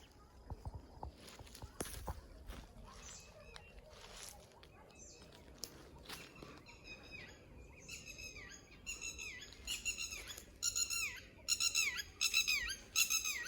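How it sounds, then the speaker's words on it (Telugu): Birds call repeatedly in bright chirping bursts in a mango orchard, growing louder and more frequent toward the end, over a faint outdoor background with scattered rustling. "పక్షులు అరుస్తున్నాయి"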